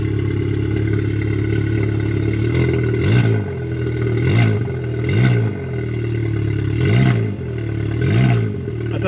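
A VW MK7 GTI fitted with a MAP downpipe idles with a steady low drone, then revs repeatedly in about five sharp bursts, each ending in crackling pops and bangs, close and loud with no talking.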